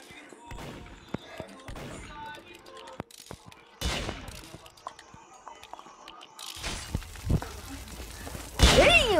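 Video game gunfire crackles in scattered bursts with a couple of louder volleys near the end, mixed with impacts and a player talking over it.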